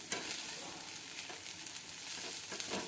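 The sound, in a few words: mixing poha in a pan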